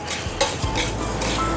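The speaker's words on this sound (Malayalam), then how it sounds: "എണ്ണയൊന്നും ഇല്ലാണ്ട് ഇങ്ങനെ ഇളക്കി മൂപ്പിക്കും" Whole spices such as coriander, fennel and cumin are stirred in a dry pan with no oil, giving a close, continuous scraping and rustling with faint light sizzling.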